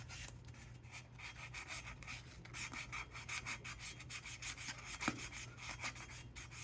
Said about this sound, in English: When you sand, you're going to get this little aluminum portion on your sandpaper.